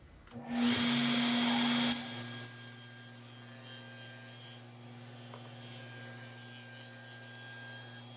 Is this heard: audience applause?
no